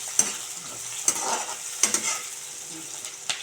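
Green chillies frying in hot oil for rava upma, a soft steady sizzle broken by a few sharp scraping stir strokes at irregular intervals, close and moderately quiet with no voices.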